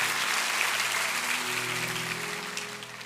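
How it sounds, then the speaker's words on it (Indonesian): A congregation at a church service applauds, a dense and steady clapping that holds for about three seconds with a faint tone of music or voices beneath it. "Berikan tepuk tangan untuk Tuhan."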